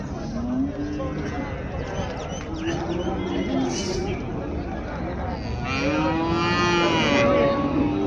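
Dairy cattle on a farm, including red-brown cows and white HF cows, mooing in long low calls, with a louder moo near the end while someone talks over them.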